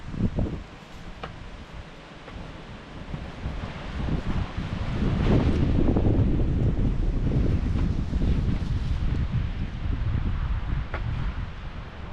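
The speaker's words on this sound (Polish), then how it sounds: "silny wiatr jest" Strong outdoor wind buffets the microphone in a continuous low roaring rumble, swelling louder through the middle and staying heavy to the end, with no talk over it.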